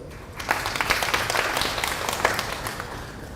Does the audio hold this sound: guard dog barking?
no